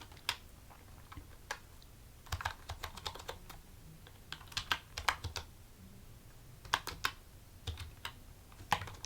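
Quiet, close computer keyboard typing in irregular bursts of crisp key clicks separated by short pauses, with no talking.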